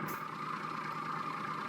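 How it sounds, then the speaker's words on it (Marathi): Volvo truck engine in Euro Truck Simulator 2, a faint steady low drone with a brief hiss near the start, continuous and quiet. "गाडी चालू करू."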